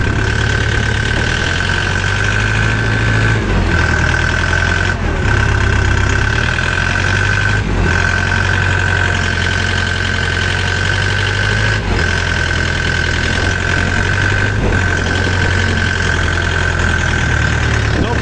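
A Dong Feng 404 tractor diesel engine hitched to a two-furrow plough runs loudly and steadily close by, with a knocking rumble and a strong constant whine throughout, and occasional brief dips.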